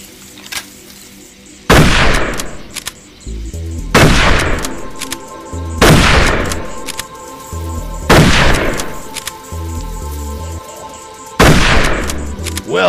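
Rifle shots ring out in the video game Darkest of Days, set at Little Bighorn: five loud, booming reports spaced a couple of seconds apart, each with a long echoing tail over background game ambience.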